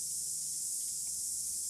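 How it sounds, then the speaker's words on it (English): A continuous hissing spray of liquid onto shoes, steady and bright throughout, with faint low background rumble beneath and no speech. "It's to spray on your shoes."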